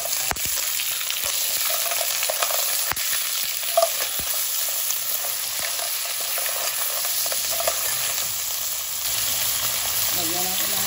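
Clams sizzle and hiss steadily in a hot frying pan while being stirred, with scraping and clinking spoon touches scattered through a continuous bright fry, close and fairly loud.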